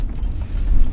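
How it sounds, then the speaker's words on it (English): Keys jangling and rattling inside a moving car, a quick irregular metallic clinking over low road rumble, close by. "I can hear the keys rattling."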